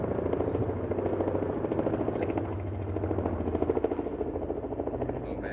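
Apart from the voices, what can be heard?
helicopter passing overhead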